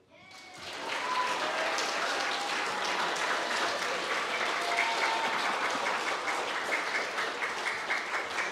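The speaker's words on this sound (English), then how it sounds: "Big clap, please." An audience at a school senior prizegiving claps for a primary academic achievement award winner, the applause swelling quickly after a quiet start into a full, sustained round with faint voices mixed in.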